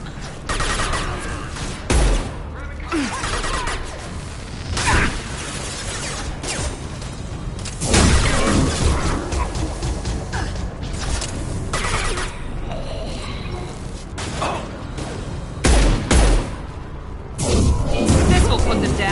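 Repeated gunfire bursts and booming impacts from a Mass Effect 2 firefight, dense and loud throughout with several heavier blasts, under continuous in-game combat chatter.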